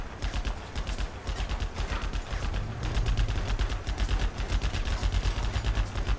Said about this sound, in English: I switch the target from shooting the nearest enemy to shooting the soldier